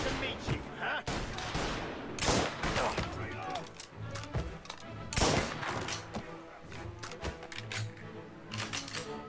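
Bursts of gunfire in the Mafia Definitive Edition video game, with sharp shots and short rapid volleys scattered across the moment, loud and close against a busy game-sound background.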